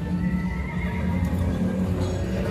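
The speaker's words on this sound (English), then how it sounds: "Horse is shouting." A horse neighs and whinnies in Hollywood, Los Angeles, its loud, wavering call rising over a dense, continuous outdoor rumble, with no talk during it.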